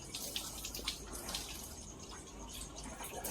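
Water trickling and dripping little by little at a fish hatchery, faint irregular splashy patters over a continuous low wash of running water.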